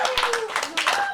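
A church congregation claps and cheers during a worship service, with dense rhythmic clapping mixed with voices and shouting close by.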